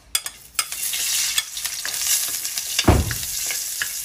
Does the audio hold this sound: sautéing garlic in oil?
yes